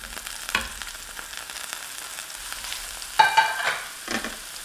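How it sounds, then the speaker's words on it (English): Mushrooms sizzle and fry in a thin layer of oil in a pan for a keto creamy chicken and mushroom dish, with a steady crackle and a few louder stirring bursts near the end. "At this point, we're going to add our mushrooms in."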